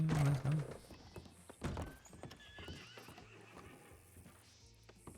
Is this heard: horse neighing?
yes